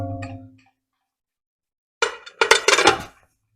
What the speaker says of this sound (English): So now I just need to load them into my pressure canner.